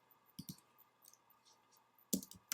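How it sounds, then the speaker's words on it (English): Keyboard typing while entering keywords on a computer, a few soft clicks early on and then a short quick burst of keystrokes near the end, faint and close with no talking. "now I'm just typing keywords"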